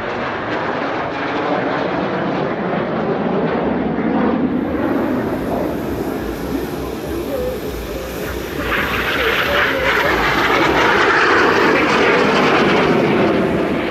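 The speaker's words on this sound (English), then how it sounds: "all seven aircraft split for the Al Fursan Bomber" Seven jets of the Al Fursan aerobatic team fly a display at the LIMA Langkawi 2023 airshow, a loud continuous jet engine roar that swells as the formation splits, with a commentator's voice faintly underneath.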